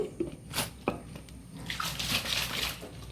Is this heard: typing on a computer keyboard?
no